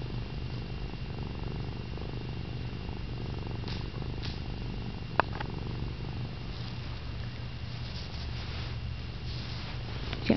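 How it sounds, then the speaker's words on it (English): A soft, continuous low purr from a nearby cat, steady throughout with a faint occasional rustle and no voices. "Mama hears you purring."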